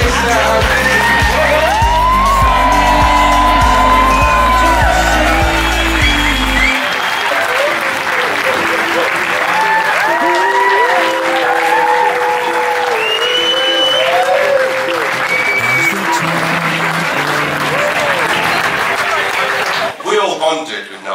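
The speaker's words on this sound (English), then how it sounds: "Let's have a big, huge round of applause for the brand new" Wedding guests clap and cheer for the newlyweds, Mr and Mrs Thomas, in a loud, sustained ovation with whoops and yells. Music plays at the start, and a voice speaks briefly.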